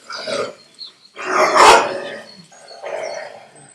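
Barks and growls from a dog in a live puppet show come in three gruff bursts, loud and close, the middle one the strongest, with no talk over them.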